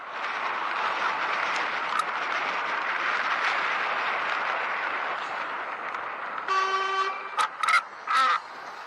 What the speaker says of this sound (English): There was a truck behind the farmer, honking at him for his stupid action.